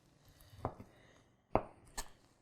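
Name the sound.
slicing food with a Mikarto Damascus chef's knife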